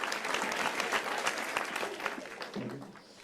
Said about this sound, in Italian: bene, applauso allora ai fratelli Antonio e Bravissimi